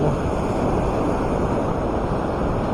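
A strong current and waves hit the shore at high tide on a sandy beach shorecasting spot near Umiray and Dikapanikian, Dingalan. The roar of surf is steady and close, with wind buffeting the microphone.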